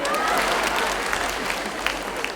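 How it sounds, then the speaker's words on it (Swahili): Audience applause at a Kenyan comedy stand-up show, a steady dense wash of clapping from a large crowd that continues throughout at an even level, with a few sharper individual claps standing out near the end. "Watu wa zamani jipigeni makofi"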